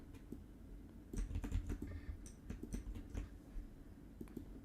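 Fingers typing on a computer keyboard into ChatGPT, a steady close patter of key taps with small bursts and pauses, heard alone without voices.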